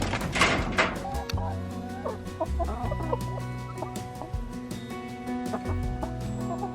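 Chickens clucking steadily nearby, overlapping soft calls and murmurs from a small flock, with occasional sharper squawks over a low background hum.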